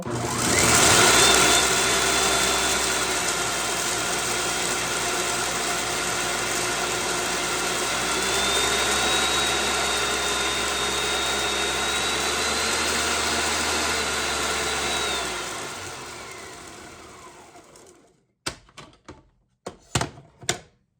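Electric grinder pulverizing dried tomatoes into powder, a loud steady whirring motor drone that holds for about fifteen seconds before winding down, followed by a few sharp knocks and clatters.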